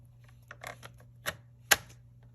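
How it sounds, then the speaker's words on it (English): A paper trimmer scores cardstock, giving a few quiet, separate clicks and a sharp snap near the end. The sounds are close and isolated against a faint steady hum. "paper trimmer, because what you want to do is score it"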